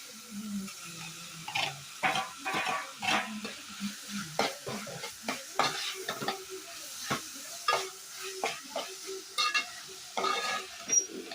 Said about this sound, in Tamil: இப்போ இது கூட நறுக்கி வச்சிருக்க தக்காளியை சேர்த்துக்கலாம்.